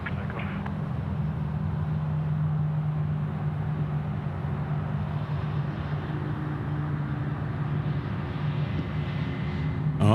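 At Sydney Airport, a Hawaiian airliner rolls for takeoff on runway 34 left; its engines make a sustained, distant, droning roar with a steady low hum throughout.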